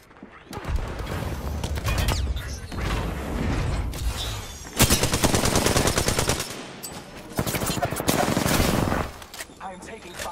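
Gunfire in Apex Legends: loud, close bursts of rapid automatic fire separated by short gaps, with mechanical clicks and handling noises between bursts.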